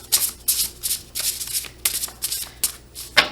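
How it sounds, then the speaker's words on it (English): A deck of thin, flimsy tarot cards being shuffled by hand in repeated quick riffling bursts, each a crisp papery flutter separated by brief pauses, close and clear. "I'm gonna shuffle maybe one more time"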